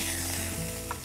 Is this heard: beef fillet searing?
yes